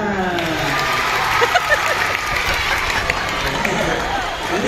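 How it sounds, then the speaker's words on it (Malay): A crowd at a school talent show magic act claps in a dense, steady burst of applause that carries through the whole stretch, with scattered voices mixed into the noise. "Tepuk tangan."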